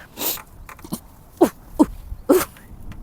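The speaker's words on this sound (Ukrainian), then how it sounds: "Уже рикнув, гавкнув." A Jack Russell terrier barks on command, giving several short, sharp barks in an uneven sequence close by, with brief pauses between them.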